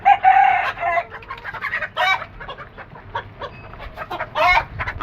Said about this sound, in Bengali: কিন্তু আমার টাইগার মোরগ মাশাআল্লাহ ডাক দেয় অনেক বড়।